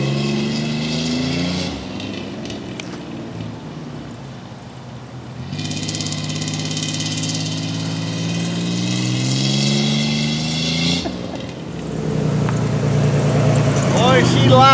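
A rough, loud engine drones steadily from a 1990 Pontiac 6000 AWD rally car, swelling louder midway and again near the end, with people talking over it.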